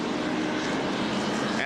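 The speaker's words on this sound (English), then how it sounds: "as we take a look at Gant, you might have noticed that the jet dryer is still out on the track as well." A jet dryer roars steadily on a race track during a 1991 NASCAR race, a continuous broadband turbine-like rush filling the whole moment without a break.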